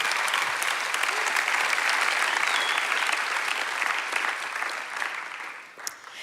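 A stage event audience claps steadily and densely for several seconds, a thick wash of applause that thins and fades slightly toward the end.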